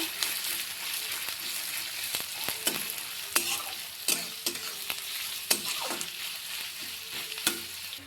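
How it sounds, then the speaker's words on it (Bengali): Chopped onion sizzles in hot oil in a pan, a close, constant frying hiss punctuated by regular sharp clicks and scrapes of stirring. "এবার এর মধ্যে আমি দিয়ে দিব কুচানো পেঁয়াজ। পেঁয়াজটাকে এবার আমি হালকা করে ভেজে নিব।"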